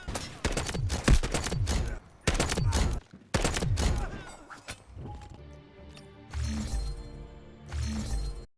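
SMG gunfire in the shooter game Delta Force, fired in several rapid bursts of sharp cracks with short gaps, then a busier stretch of distant shots and impacts in the background.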